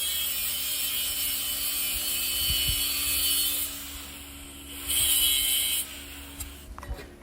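A power tool buffs a plasma-cut burr off a steel fire pit, a steady high whine with scattered grinding contact bursts that swell and drop near the end.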